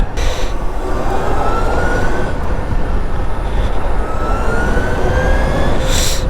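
An Ather 450X electric scooter rides in sport mode. A steady, loud rush of wind and road noise fills the whole stretch, with a faint motor whine rising in pitch, and no talking.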